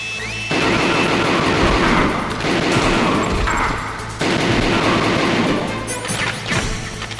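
Dense, loud bursts of gunfire from the video game Metal Gear Solid, played on PC, in rapid overlapping volleys with crashes, sustained for several seconds and briefly easing midway before resuming.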